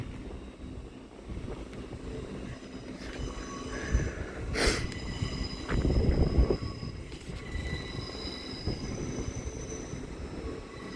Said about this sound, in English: The delayed 1424 Hull train service from Hull to London King's Cross.